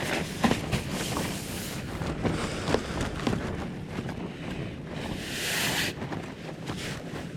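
Strong mountain wind buffets the microphone in a steady, roaring rush with gusty swells, loudest toward the middle-end, continuous throughout with no voices.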